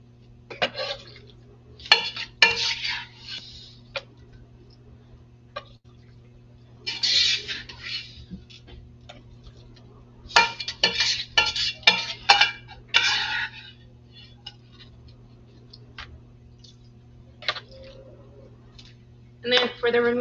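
Carrot soup is ladled from a pot into a blender during a spring cooking class: intermittent clinks and scrapes of a metal ladle against pot and glass jar, with splashes of liquid, in scattered bursts separated by quiet pauses.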